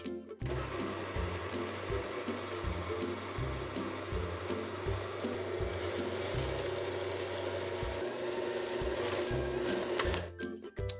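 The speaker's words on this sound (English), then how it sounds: "I mixed it to just get the flour incorporated" A stand mixer whirs steadily as it works flour into Toll House–style cookie dough, its motor humming with a rhythmic thumping churn for about ten seconds before stopping abruptly.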